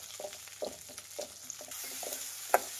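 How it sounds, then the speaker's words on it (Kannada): Chili and tomato fry in a pan over a medium flame, a low steady sizzle broken by a series of soft stirring scrapes and one sharper clack near the end, with no voices. "ಇದನ್ನೆಲ್ಲ ಫ್ರೈ ಮಾಡಿ, ಮೆತ್ತಗಾಗಬೇಕು ಟೊಮೆಟೊ, ಅಲ್ಲಿವರೆಗೂ ಫ್ರೈ ಮಾಡಬೇಕು."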